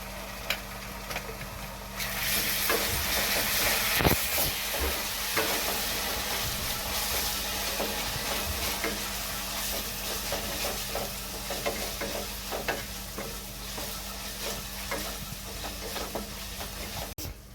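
Ginger garlic paste frying with sautéed onion in a pan, a steady close sizzle with frequent stirring scrapes and clinks, no voices.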